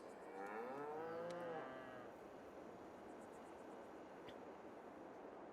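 Cattle in a cow barn in the farming game Farming Simulator 22 give one long, wavering moo that swells and then fades. A steady low background hum continues after it, and nobody speaks.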